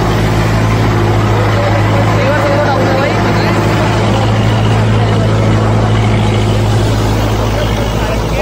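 A Kubota tractor engine runs steadily while driving a PTO rotavator through field soil, a constant loud drone with a low mechanical hum that holds without breaks.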